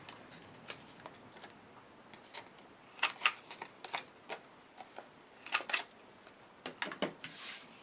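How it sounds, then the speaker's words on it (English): Paper corners trimmed with a We Are Memory Keepers corner chopper, 1/4 inch side, while making Halloween cards: a scatter of faint, sharp clicks and snips, with a few clustered crisp cuts standing out above quiet background rustle. "What I'm going to do next is use my We Are Memory Keepers corner chopper, and I'm just using the 1/4 inch side and trimming those off"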